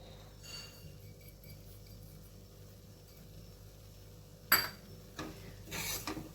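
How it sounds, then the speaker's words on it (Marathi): A spoon scrapes and clinks in a pot as jaggery is stirred into cooked barnyard millet for a fasting coconut rice dish. The sounds are quiet and sparse, with one sharp clink and a short rubbing stir near the end. "आता ह्याच्यामध्ये आपण गूळ मिसळूया"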